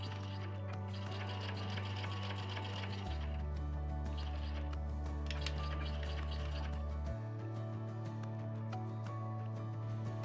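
Sewing machine stitching fabric for an easy appliqué bag, a steady close mechanical whir running throughout with shifts in motor pitch as speed changes, no talk.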